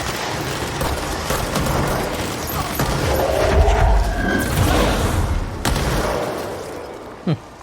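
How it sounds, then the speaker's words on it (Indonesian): Explosions boom and rumble in the PC video game Control, dense bursts and crackling blasts layered over continuous loud action noise, with a sharp pop near the end. "Gile, keren banget. Langsung meledak."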